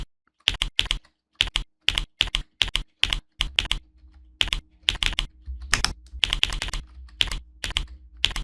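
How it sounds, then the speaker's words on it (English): Individual computer keyboard keys are pressed one at a time, crisp clicky taps in irregular clusters with short pauses, close and alone. "So you can hear the keyboard key press sound, right?"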